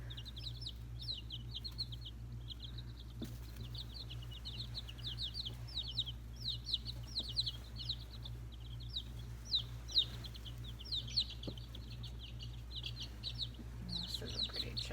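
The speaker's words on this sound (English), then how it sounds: "This is a pretty chick." Bantam chicks and hens in a backyard coop, with steady high chirps and peeps running throughout over a constant low hum, mixed with occasional soft clucks, fairly close and moderately loud.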